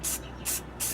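Spray-paint primer let out in three short test bursts onto a scrap of extra desk material, each a crisp, close hiss with quiet gaps between.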